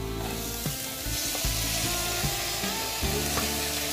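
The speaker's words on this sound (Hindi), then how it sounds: "अब हम जो दाल हमने पकाई थी उसको तड़के में ऐड कर देते हैं।" Cooked dal poured into a hot tadka of oil, hing and onion in a pan, a bright steady sizzle with a few soft scraping stirs, close and continuous with no voices.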